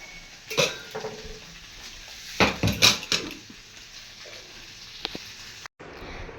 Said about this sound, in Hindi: अभी मैं बर्तन साफ़ कर रही हूँ।